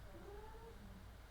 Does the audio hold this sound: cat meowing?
yes